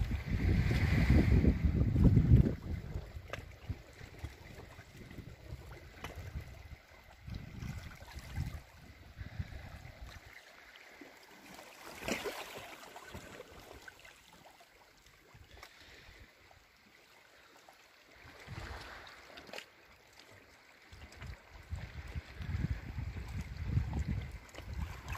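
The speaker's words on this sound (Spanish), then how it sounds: "Se siente el ruido de los olas" Gentle Mediterranean sea waves wash and hiss against the rocky shore at Cabo de San Antonio in soft, broad surges, with breezy wind noise over a calm, steady backdrop.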